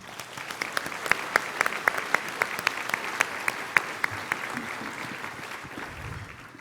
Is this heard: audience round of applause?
yes